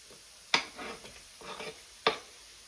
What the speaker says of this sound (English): I'll let that garlic saute for a couple of minutes